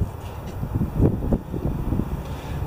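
Gusty wind blows across a winter vegetable garden between snowstorms, a low buffeting rumble against the microphone that swells and dips in irregular surges, with no one talking.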